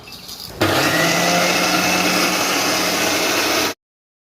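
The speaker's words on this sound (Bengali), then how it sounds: "এবার আমি মিক্সিতে খুব ভালো করে পেস্ট করে নিয়ে আসবো" A mixer grinder whirs into life after a brief quiet moment, blending semolina with cow's milk into batter; the motor runs loud and steady for about three seconds, then cuts off abruptly into silence.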